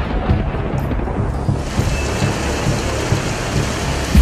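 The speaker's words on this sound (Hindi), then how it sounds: "गरज चमक के साथ तेज बारिश हुई।" Heavy rain during a thunderstorm in Punjab, Pakistan, a loud steady downpour with low rumbling and scattered drops striking nearby surfaces.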